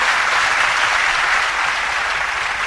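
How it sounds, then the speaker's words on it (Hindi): Dense, loud applause from a seated audience at a spiritual discourse, continuous clapping with no pauses from start to finish. "पहले इसके प्रश्न के लिए एक बार तालियां बजा दीजिए।"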